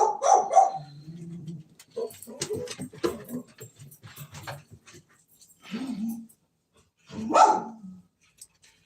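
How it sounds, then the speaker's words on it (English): A dog barks in sharp, scattered bursts, with a few whimpering and growling sounds, at moderate distance outdoors; someone talks in between the barks. "I'm probably gonna have to run up there to see what she's barking at, because that's becoming super annoying."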